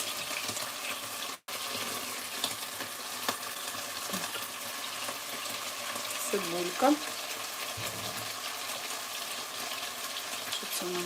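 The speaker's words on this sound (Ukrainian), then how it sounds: "Все це перемішуємо і трошки нехай воно тушкується." Food stewing in a pan on a home kitchen stove is stirred, with a steady soft sizzle throughout, occasional utensil clinks and scrapes, and a faint background hiss.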